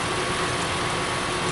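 A Hyundai Sonata engine with a P0171 fault code idles at about 850 rpm, a continuous low, even rumble with a broad hiss on top and no speech.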